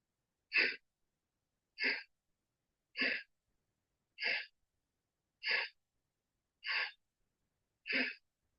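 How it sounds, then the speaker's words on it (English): Deep yoga breaths drawn in and let out through the nose and mouth, seven even, close bursts spaced about a second apart with silence between, and no talking. "Breathe in and breathe out."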